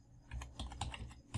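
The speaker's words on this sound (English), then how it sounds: "just go on your browser and type" Quick taps on a computer keyboard as a word is typed into a browser, a short run of close, soft clicking keystrokes.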